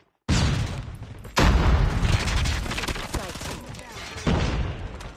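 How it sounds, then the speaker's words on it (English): Grenade explosions in a multiplayer shooter video game, a sudden loud blast followed by a second heavy boom and then a third, with rumbling gunfire and battle noise carrying between them. "He threw a nade directly at my face."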